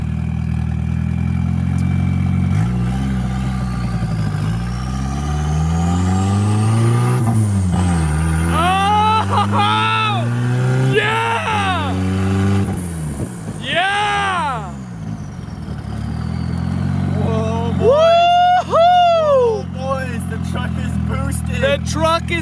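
Nissan D21 pickup with a turbocharged S13 engine and drivetrain, revving repeatedly from idle in sharp climbing bursts with turbo whistle and a flutter on release, loud and close, with people shouting excitedly between revs.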